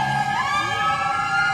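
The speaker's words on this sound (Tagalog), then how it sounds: "nag-iingay, ang ingay-ingay ng mga wangwang." Emergency vehicle sirens wail near a fire in Sampaloc, Manila, a rising, sustained tone sweeping upward and holding steady, loud and close without any talk.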